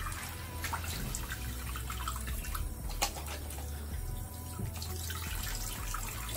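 Cold water runs steadily from a tap while someone rinses during a wet shave, a close, continuous splashing with a few brief clinks and no talking.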